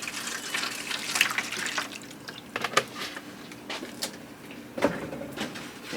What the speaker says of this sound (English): Pour the apple juice in the pan.